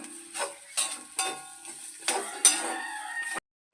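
Grated coconut and shallots roast in a pan for ginger curry, stirred in repeated scraping strokes, each swish rising and fading, with a sharp sizzle and an abrupt stop at the end.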